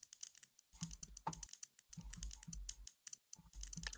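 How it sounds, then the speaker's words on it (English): Rapid plastic clicking and clattering from Lego pieces in a Minecraft Lego Bed Wars match on Hypixel, dense irregular bursts close by, soft and without talk. "There's all these Lego clicking sounds."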